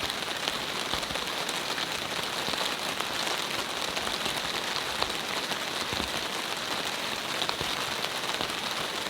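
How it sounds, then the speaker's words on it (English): Rain falling on a camping tarp in freezing weather, a dense steady patter of drops close overhead, constant and even with occasional sharper taps, no voices. "I want you to hear the rain"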